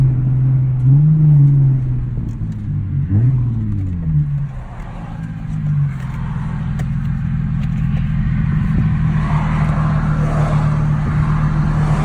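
A Nissan 370Z fitted with a Sprint Booster pulls hard in first gear, the engine note rising steadily in pitch as revs climb, then dropping after a shift into a steady, loud drone heard from inside the car, with no talking.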